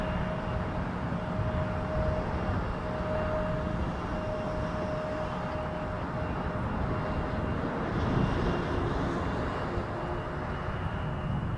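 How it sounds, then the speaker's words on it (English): An Air India airliner takes off from Toronto Pearson Airport, its engines a loud, steady roar with a sustained whine that holds throughout, heard alone without talk. "With an Air India takeoff from left to right"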